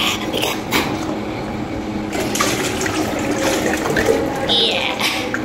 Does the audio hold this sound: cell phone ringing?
no